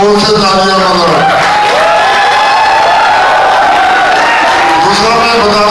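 Audience at a Saturday night show loudly clapping and cheering for a government minister chief guest, a sustained crowd roar with voices and shouts mixed in throughout.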